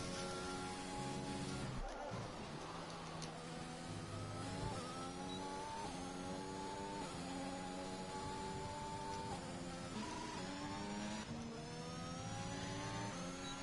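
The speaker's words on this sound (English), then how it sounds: "And Yuji is just about to start his flying lap in the Williams." Racing car engine from a Williams on a flying lap in a racing video game, a steady high-revving whine with rising and falling pitch through gear changes and corners, continuous and fairly loud throughout with no talk.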